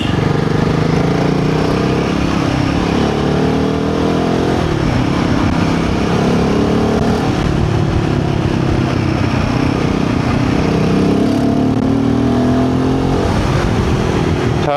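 A Royal Enfield Himalayan 450 motorcycle's exhaust rumbles steadily while riding on a road, loud and close, with engine pitch rising and falling through gear changes and wind rushing throughout.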